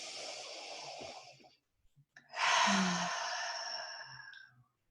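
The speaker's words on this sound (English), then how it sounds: "Let's just close our eyes and breathe that in." A long, deep breath is drawn in and slowly released during a guided meditation, heard close and alone, with a brief pause and a faint catch between the breaths.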